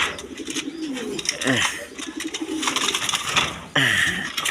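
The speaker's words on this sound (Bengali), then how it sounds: "এখানে এক পেয়ার রেড চেকার রেশার কবুতর আছে" A pair of red checker racer pigeons coo nearby in soft repeated low calls, mixed with someone talking and background chatter.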